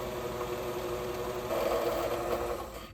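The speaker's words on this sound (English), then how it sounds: "You don't want to run the machine too much where it gets stuck." Singer Fashion Mate 257 sewing machine running while winding the bobbin, a steady, quiet motor hum and whir that swells slightly midway, with no voices.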